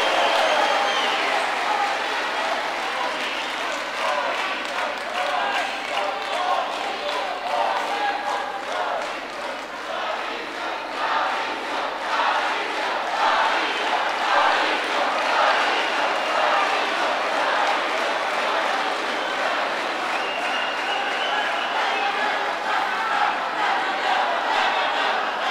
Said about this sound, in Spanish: Otro aplauso para las autoridades electas